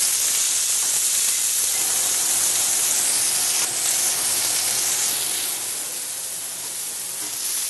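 A Turner beef striploin steak sizzles in a smoking hot pan on high heat, giving a loud, continuous hiss and crackle that holds steady throughout and fades a little toward the end, with no talking.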